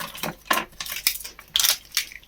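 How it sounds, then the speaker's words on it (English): A fork and spoon clinking and scraping against a dish of stir fry, several separate sharp taps and scrapes in an irregular rhythm, close and fairly quiet with no talking. "I'll probably eat mine with a fork and a spoon."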